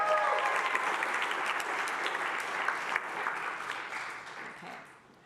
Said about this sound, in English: So you've already given them an applause, and I'll just say, let's do it one more time.